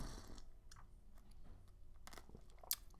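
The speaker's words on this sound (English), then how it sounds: "I can hear that granulated sugar crunching in my teeth." Granulated sugar from a cappuccino crunches between teeth in a quiet room, soft irregular chewing crunches with a few sharper bites, close and faint.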